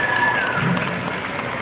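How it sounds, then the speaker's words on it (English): Audience applause at a sea lion show in a mall, a brief, steady wash of clapping from a crowd, fairly loud and even throughout. "So let's give him a big round of applause."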